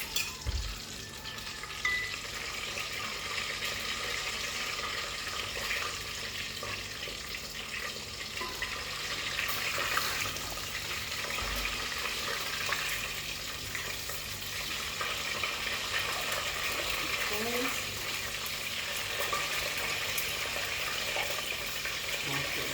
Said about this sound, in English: We're gonna put it in the oil and fry it.